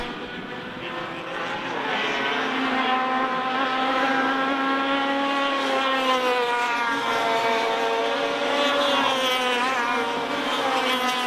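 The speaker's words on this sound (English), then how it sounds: "So Riddell comes out of pit corner, followed by Phil Smith" TAG 125 racing karts in a Masters class final at a Victorian kart championship pass on the track, with a steady high, buzzing two-stroke engine whine that rises and shifts pitch as several karts go by.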